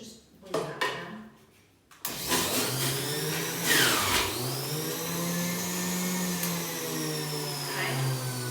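A blender whizzes courgettes and other green vegetables at a juicing workshop, kicking in abruptly after a few short knocks and a brief voice, then holding a loud, steady whirring drone to the end.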